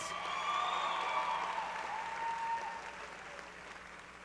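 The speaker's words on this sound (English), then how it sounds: "How about another round of applause for our senior counselors" A crowd at a high school graduation ceremony applauds loudly, the clapping slowly fading toward the end.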